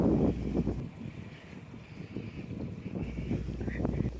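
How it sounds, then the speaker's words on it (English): Strong gusts buffet the microphone on the Riegelsville Free Bridge, with rough low rumbling blasts that ease briefly in the middle and then return loudly. "it was a very windy day when I decided to take the walk across this bridge"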